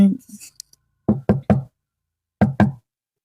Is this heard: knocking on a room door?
yes